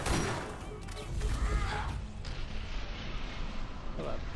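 Healing grenades exploding in the Borderlands video game, a burst of booming blasts followed by a rumbling, crackling tail, with a voice talking over the game sounds.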